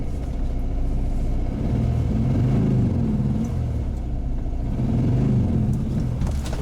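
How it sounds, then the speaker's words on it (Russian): A long-abandoned car's engine runs with a deep, steady rumble that swells in two low revving surges as the vehicle strains to pull away, loud and close. "Да, включается. Она даже трогаться пытается."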